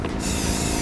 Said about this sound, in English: So you take that and you spray it onto there?